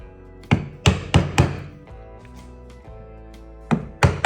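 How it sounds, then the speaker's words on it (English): A chisel chops out a wooden tenon by hand for a wedged through mortise and tenon joint, giving a run of sharp, close mallet-struck thwacks in two bursts, four quick blows then a pause with lighter taps, then two more. "Now, to save boring you, I'm going to go ahead, chop this tenon out"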